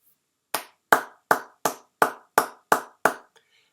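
Eight sharp, evenly spaced claps ring out close by, one pair of hands clapping alone in a steady rhythm.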